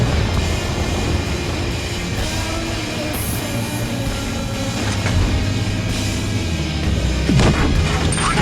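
In a tank video game, a HEP shell strikes the spaced armour on a tank's side, giving a sharp crash over a continuous low engine rumble, with another impact-like burst later.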